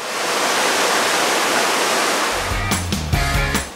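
El Chorro waterfall roars close by with a loud, steady rush of falling water, then cuts away to tonal music after a couple of seconds.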